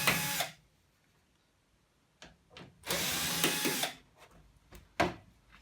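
A power screwdriver whirs in short bursts while removing screws from the back panel of a Beko DRCS68W tumble dryer, with a few quieter clicks and pauses between the loud spurts.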